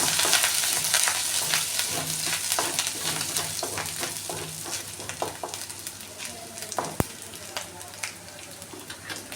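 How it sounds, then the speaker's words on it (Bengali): Grated garlic and ginger frying in hot oil in a pan, a loud, steady close sizzle with stirring scrapes and a sharp clink near the end, and no talking. "আমি গ্রেট করে রাখা রসুন 1 চামচ আর গ্রেট করে রাখা আদা 1 চামচ দিয়ে দিলাম। আদা রসুনটাকে হালকা ভেজে নেব।"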